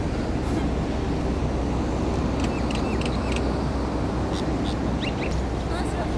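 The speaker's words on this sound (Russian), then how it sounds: "Хотя мне больше нравятся вот эти птички." Birds calling outdoors in Dubai, a few short bright chirps and quacks rising at intervals over loud, constant city and crowd noise with voices murmuring.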